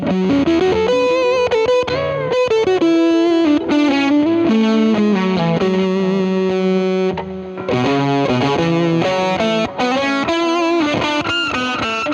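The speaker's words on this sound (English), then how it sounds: "This is just the P90 neck sound." An electric guitar played through a warm, gritty P90 neck pickup tone with effects, picking a melodic line of sustained notes and chords without pause.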